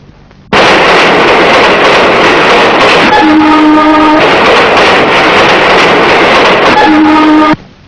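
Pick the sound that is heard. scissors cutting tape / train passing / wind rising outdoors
train passing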